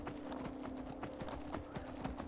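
A horse's hooves clip-clop in a steady, evenly spaced rhythm of repeated beats in the Skyrim video game, fairly quiet and with no talking over them.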